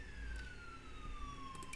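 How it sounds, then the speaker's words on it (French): A distant ambulance siren wails faintly in a long descending tone over low background rumble. "Excusez-moi pour le bruit de l'ambulance que vous entendez."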